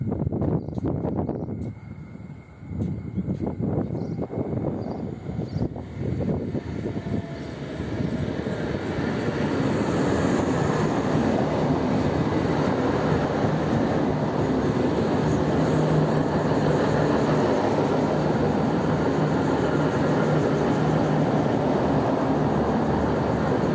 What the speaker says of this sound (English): Please stand well behind the yellow line until the train comes to a complete stop.